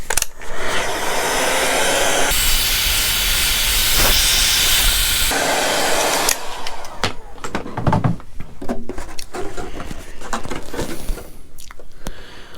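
A heat gun blows a steady, loud, broadband rush of hot air onto a clear Lexan RC car body for several seconds, then gives way to clattering handling noises as the airflow fades out.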